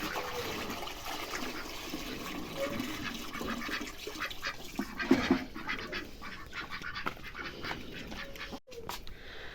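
Water poured out in the evening for ducks and chickens, splashing steadily and close, with ducks quacking and other birds calling around it.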